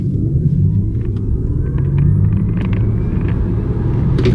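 An Audi A6 e-tron Avant electric car accelerates hard from a standstill to 60, its low rumble steady and loud throughout with a faint rising whine above, no voices.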